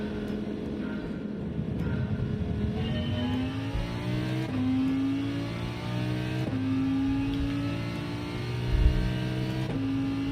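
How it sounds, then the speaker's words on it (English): Race car engines in Gran Turismo 7, online manufacturers race, drone steadily throughout with rising harmonic sweeps as the engines rev through gears and upshift, loud and continuous with no talk. "Engine sounds."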